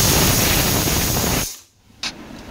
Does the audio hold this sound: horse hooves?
no